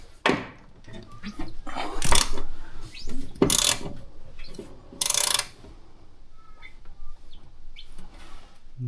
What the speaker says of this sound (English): Alright, we're going to turn the motor clockwise.